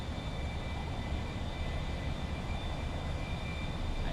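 Steady, continuous roar of an aircraft engine in a video game, a dense broadband drone holding at a constant level throughout, with no talking.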